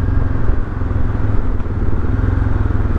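KTM 690 Duke R single-cylinder motorcycle pulling in fourth gear at low revs, a loud, close, thumping engine note with a steady pulsing rhythm and no speech.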